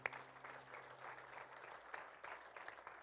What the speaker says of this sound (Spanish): no le damos un aplauso fuerte,